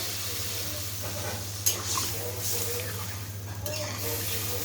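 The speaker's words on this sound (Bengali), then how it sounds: "তরকারির ভিতরে দিয়ে দিলাম পরিমাণ মতো জল।" Water poured into a pan of frying spiced vegetable curry with stems, giving a steady sizzle with bursts of pouring and stirring over a constant low hum, close and moderately loud.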